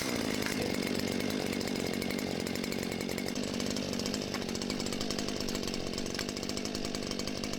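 A Stihl chainsaw runs steadily close by, its engine buzzing at a constant rough drone throughout with no pauses.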